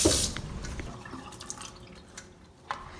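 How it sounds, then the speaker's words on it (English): Tap water runs and drips while fresh cilantro is rinsed for chicken al pastor tacos, a soft steady splash that fades a little before a brief louder spatter near the end, with no talking. "I like to make sure that I rinse my cilantro very well and all my vegetables."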